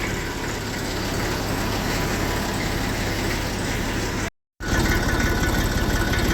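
A Holland 24-76 tractor engine idles steadily in cold winter weather, a continuous low rumble with a brief dropout partway through and no talking.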